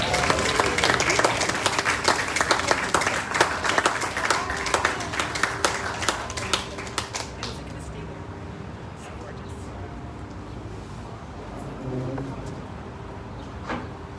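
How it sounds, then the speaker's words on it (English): An audience at an anniversary kick-off event applauds Danielle, loud dense clapping for about seven seconds that thins out and fades, leaving quiet room tone with faint murmurs. "give Danielle a round of applause"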